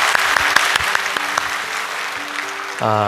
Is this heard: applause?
yes